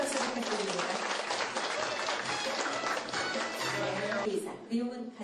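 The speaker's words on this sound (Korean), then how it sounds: "여러분 큰 박수 부탁드립니다" An audience at a skin clinic's opening ceremony applauds steadily, a dense, continuous wash of many hands clapping that holds for several seconds before tapering off near the end.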